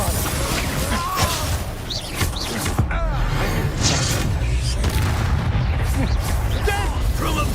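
Bombarda spell explosions in the video game Hogwarts Legacy, loud booming blasts and crackling magical effects layered over a dense battle soundscape, with a voice shouting spell names over the din.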